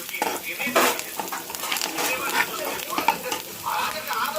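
Curry leaves crackle and sizzle in hot oil in a pan, with uneven bursts of spitting and light utensil clatter close by.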